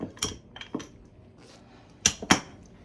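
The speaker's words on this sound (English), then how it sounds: "there went the rolling pin" A rolling pin drops in a home kitchen while cinnamon buns are being made, giving several sharp, separate clacks and clatters, with two louder hits near the end.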